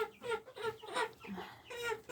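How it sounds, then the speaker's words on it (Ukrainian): Close chickens and young roosters on a home farm cluck repeatedly in uneven bursts, fairly loud and busy with overlapping calls. "Зараз покажу півників, які я відсадила."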